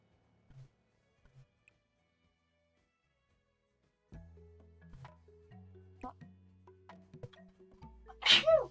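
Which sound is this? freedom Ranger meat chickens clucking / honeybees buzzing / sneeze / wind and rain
sneeze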